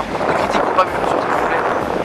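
Gusty wind buffets a microphone on a beach, a steady broadband rumble running under someone speaking French throughout.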